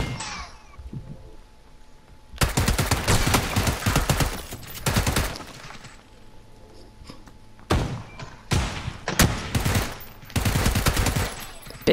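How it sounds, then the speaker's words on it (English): Rapid bursts of gunfire in the PUBG video game, loud sharp volleys arriving in several separate clusters with short quiet gaps between them, and little talk over them. "Someone else is shooting at them."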